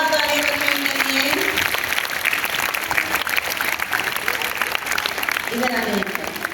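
A school audience at a Delhi government school awards event applauds a 5th-grade class and their teacher with continuous clapping, while a voice speaks over it at the start and again near the end.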